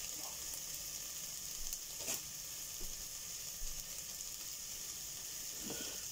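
Onions frying in a pan with a steady, close sizzle and soft crackle throughout, a faint tap or stir now and then.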